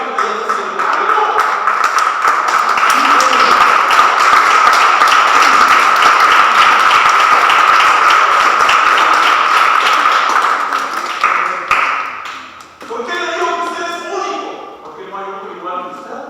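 A church congregation claps loudly and continuously for about eleven seconds, then the applause fades and a voice begins speaking.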